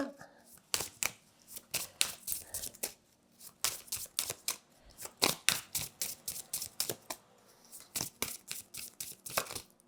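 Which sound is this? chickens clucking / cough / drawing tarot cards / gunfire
drawing tarot cards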